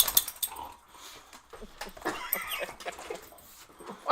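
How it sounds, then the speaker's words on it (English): A dog whimpers and yips in short, uneven bursts at close range, with scattered louder cries over a quiet background. "fucking dog"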